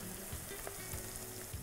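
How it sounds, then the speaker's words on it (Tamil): Onions sauté in oil with fennel seed, cinnamon, cloves, bay leaf and curry leaves in a pan, giving a continuous, even sizzle with faint stirring scrapes and no talk. "வெங்காயத்தை வதக்குறோம்,"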